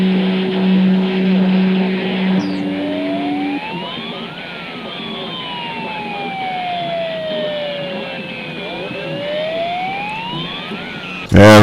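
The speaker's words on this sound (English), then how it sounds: "It's only an ambulance." An ambulance siren sweeping up and down as it passes in the distance, heard over a steady low engine or radio hum with a few tone changes and a sudden loud burst at the end.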